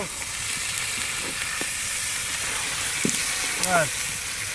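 Country chicken for mango chicken sautés in a pan outdoors in a mango orchard as water is added, a continuous close frying hiss running under people talking.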